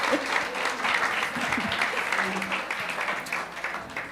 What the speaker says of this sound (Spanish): Démosle un aplauso a las mujeres